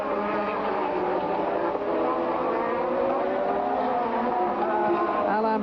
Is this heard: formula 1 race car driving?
yes